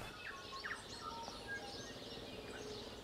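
Faint bird calls and chirps come from a shelter belt of trees on a deer breeding and finishing farm, soft and scattered over a steady outdoor hiss.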